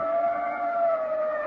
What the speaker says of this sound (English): We were about a block away from her apartment when we heard the ambulance.